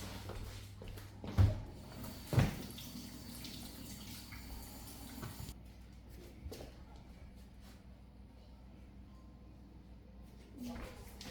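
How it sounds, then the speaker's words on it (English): Water running from a tap at a sink while hands are washed, a soft steady stream with a couple of louder knocks early on, faint and close, without talk. "So let's go wash our hands."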